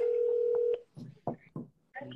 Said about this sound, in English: I'm gonna try to call him again.